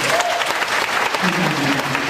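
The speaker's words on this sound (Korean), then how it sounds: "박수 한번 보내주세요" A crowd of soldiers at a military entertainment show breaks into loud, dense applause, steady clapping that fills the short stretch with some cheering voices mixed in.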